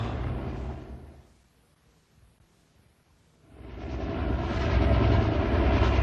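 A loud, steady helicopter engine roar that fades almost away midway, then swells back in, heavy and rumbling overhead.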